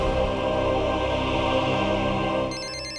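A phone rings with an incoming call, a loud electronic ringtone tune looping steadily and close before cutting off.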